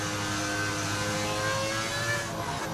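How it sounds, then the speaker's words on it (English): Formula 1 cars with V10 engines from the racing game F1 25 scream at high revs, a loud, sustained engine whine holding steady as they race. "Those cars sound so fast."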